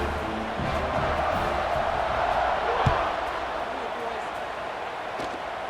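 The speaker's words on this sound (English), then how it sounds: "this crowd is buzzing after that last score" A college football stadium crowd at Texas Tech versus Colorado keeps up a loud, steady roar after a score, a dense wash of cheering voices that continues throughout.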